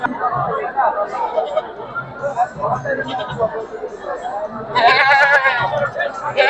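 A mother goat at the Tebaria livestock market in Natore bleats loudly near the end, rising over continuous crowd chatter and nearby voices.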